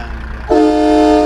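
A heavy truck air horn in American Truck Simulator blares once, a clean sustained tonal honk that starts abruptly and holds loud for about a second.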